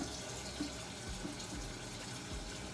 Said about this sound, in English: I always fill up the water, not too much water, right?